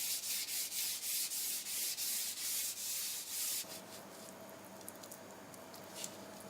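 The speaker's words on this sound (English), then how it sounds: "they press grindstone sand and powdered soil onto the surface" Grindstone sand and powdered soil are rubbed by hand onto a lacquered wooden surface, giving faint, close, rhythmic scrubbing strokes that give way to a softer, steadier rubbing texture, no voices.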